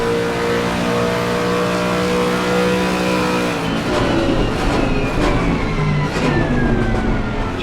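A race car in a racing video game at Zandvoort roars at high revs, then the engine note drops sharply as it brakes hard and downshifts, loud and close throughout.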